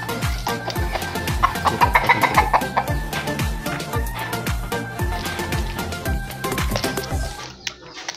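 Chickens pecking at corn kernels, with a rapid run of sharp taps and scratches under continuous clucking and a few louder squawks, close by and busy throughout.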